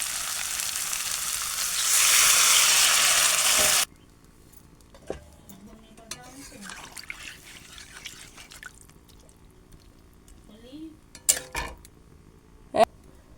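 Water poured into a potato and cauliflower curry hits the hot pan with a loud, hissing sizzle for a few seconds. The hiss then drops away to quiet scraping, dripping and spoon clinks as the curry is stirred.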